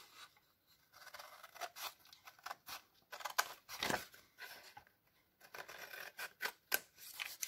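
Scissors snip through paper while a junk journal pocket is being made, a series of quiet, crisp close-up cuts in irregular bursts with brief pauses between them.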